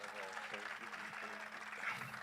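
An audience in Indore applauds, a dense, even clapping that holds steady for a couple of seconds at a fairly faint, distant level.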